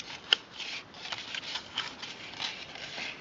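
Paper model flaps are folded up by hand, making faint, close crinkles and soft rustles in small irregular bursts with one sharper crackle near the start.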